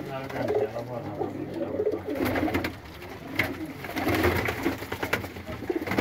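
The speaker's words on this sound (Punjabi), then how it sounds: "ਸਾਡੇ ਸਿਆਲਕੋਟ ਦੇ ਬਹੁਤ ਮਸ਼ਹੂਰ ਕਬੂਤਰ ਨੇ" Sialkoti pigeons at a loft cooing close by, repeated soft throaty coos and wing or cage rustles throughout, with someone talking over them.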